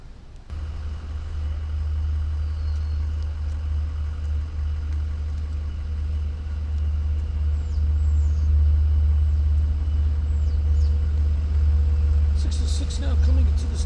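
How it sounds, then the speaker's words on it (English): LIRR commuter train 606 on the Port Jefferson Branch arriving toward Northport, a strong steady low engine rumble building gradually, with faint high squeals near the end. "here comes train 606"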